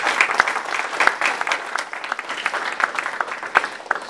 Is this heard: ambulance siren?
no